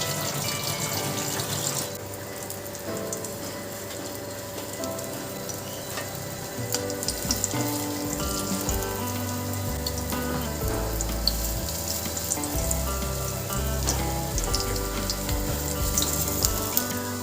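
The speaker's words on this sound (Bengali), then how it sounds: "আমি সরষের তেলে বড়াটা ভাজছি" Sesame fritters (til bora) frying in hot mustard oil, a steady loud sizzle throughout with occasional stirring clatter and a running-water-like hiss underneath.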